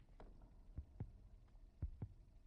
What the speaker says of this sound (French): Ce battement de cœur en plus.